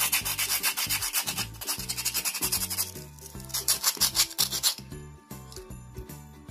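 A coconut shell being scrubbed smooth by hand for a craft toy, with close, rapid, rhythmic rasping strokes in quick bursts, a brief easing midway, then more vigorous scrubbing.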